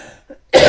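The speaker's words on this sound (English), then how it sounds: "but I have this amazing cough" A single sharp, loud cough bursts out near the end after near silence, deep and chesty from a person with a lingering cough.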